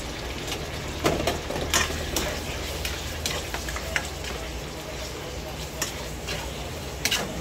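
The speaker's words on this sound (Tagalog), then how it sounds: "Gisa-gisa lang muna sandali." Pork binagoongan with bagoong sautés in a pan, a steady close sizzle with scattered clicks and scrapes from stirring, while someone talks over it.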